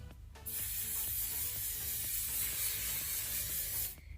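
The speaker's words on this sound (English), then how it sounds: "I'm going to spray that all over the back of my hair." So Gorgeous Volumizing Shaping hairspray hisses from an aerosol can onto the back of long hair in one continuous close burst lasting several seconds, with no talking.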